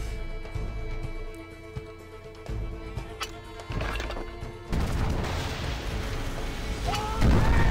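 Chained cannons fire in the Assassin's Creed Pirates mobile game, a series of muffled crashing booms and impacts over a busy game soundtrack, growing louder toward the end.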